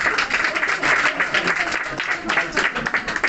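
An audience at an engagement ceremony claps together in a dense, sustained burst of applause with a few voices mixed in, loud and close throughout.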